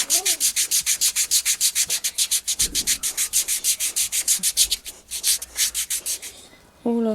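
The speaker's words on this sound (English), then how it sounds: "After rasping, check that the hardened skin has been removed." Hardened dry skin being rasped off a foot during a spa pedicure: a steady run of quick, rhythmic scraping strokes, close and fairly loud, with no talking.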